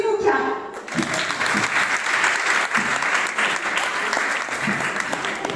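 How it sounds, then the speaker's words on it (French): Warm, sustained applause from a theatre audience for the Tsimoka troupe after a performance of L'Homme qui plantait des arbres, dense clapping that begins after a brief spoken moment. "je vais vous demander d'applaudir encore une fois le groupe Simouka"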